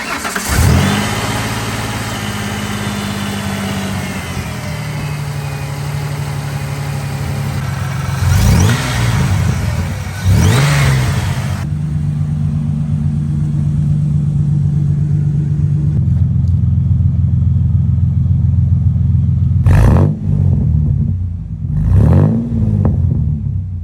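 Supercharged Ford Ranger truck with a five-speed manual and solid axle starts up, settles into a steady, loud idle, then gets several sharp revs that rise and fall, close by with no talking.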